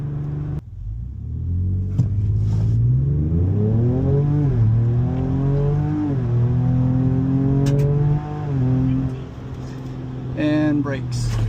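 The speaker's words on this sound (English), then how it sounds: "Sport mode exhaust, 4 high." A Ford Ranger Raptor in sport mode with four-high engaged accelerates hard, its exhaust rising through rising and falling engine pitch across several gear changes, loud and close from inside the cab, with a brief lift near the end.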